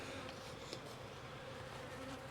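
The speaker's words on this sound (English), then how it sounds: "The bees are definitely flying." Honeybees fly around an open hive on a warm late afternoon, making a dense, continuous buzzing drone close by with no voices.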